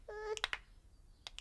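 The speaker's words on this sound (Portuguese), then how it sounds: "quero que batam palmas comigo enquanto eu dou um estalido com os dedos" Crisp finger snaps sound close and clear: a quick pair of snaps, a pause, then another pair. A brief tonal sound plays just before the first snaps.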